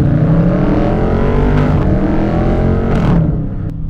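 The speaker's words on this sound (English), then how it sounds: "Oh, the way this thing shifts, the way it sounds, the way it accelerates" Dodge Charger Scat Pack engine revving hard under acceleration, with a loud, continuous roar that dips briefly at each gear shift before climbing again, close by and with no talking.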